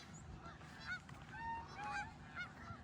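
Ducks call faintly in the distance beside a harvested cornfield, a scattering of short honking squawks over a soft outdoor background hum.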